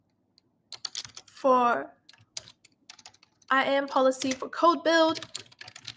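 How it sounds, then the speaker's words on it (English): Rapid clicking on a computer keyboard while writing code, with irregular bursts of keystrokes running under someone talking. "My typing is not the best today, is it?"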